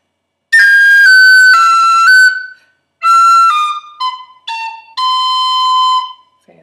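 A tin whistle plays the Irish tune The Connachtman's Rambles, bright clear notes in a few short phrases with brief gaps between, close and loud and unaccompanied.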